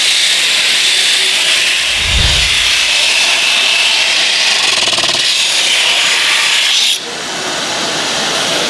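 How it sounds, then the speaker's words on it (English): A power sander set for rough sanding runs continuously as it is moved across a surface, giving a steady, loud whirring hiss that shifts slightly in tone and drops a little near the end. "This has got a speed indicator on the front here, and this is for really rough sanding."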